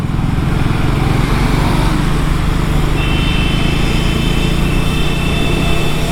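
A Triumph Speed 400 motorcycle, a roughly 40 PS single, running steadily while ridden, giving a constant loud engine drone with wind rush and no talk over about six seconds.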